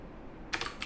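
A quick burst of keystrokes on a computer keyboard, close and crisp, with several rapid clicks following a quiet pause.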